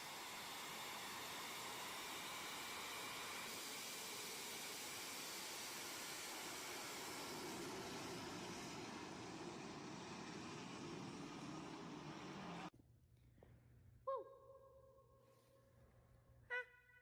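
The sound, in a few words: jet engine mounted on a semi-truck roaring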